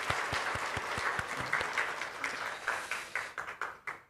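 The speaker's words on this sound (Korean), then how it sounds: "우리 박수하도록 하겠습니다" A church congregation at a Korean Sunday service in Tashkent claps, a busy wash of many hands that thins into a few separate, spaced claps before stopping.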